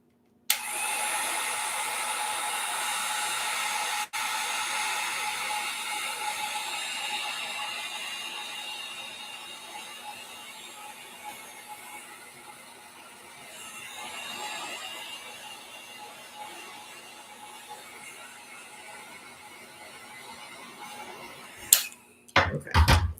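A heat gun blows hot air onto a plastic skeleton for a Halloween mini corpse craft. It makes a steady, close whooshing drone for about twelve seconds, then eases to a quieter hiss and ends with a few sharp clatters.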